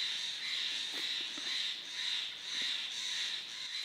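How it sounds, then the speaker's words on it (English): Crows caw now and then in the distance, faint and scattered, over a steady outdoor hiss with no voices. "you hear the birds crowing in the background"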